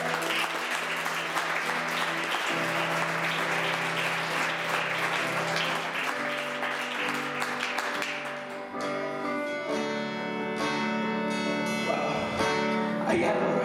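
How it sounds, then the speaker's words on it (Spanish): A church congregation at an evangelistic service claps steadily for several seconds, a dense, sustained burst of applause mixed with organ or keyboard tones in the room. "Alguien de palmas al Rey de Reyes."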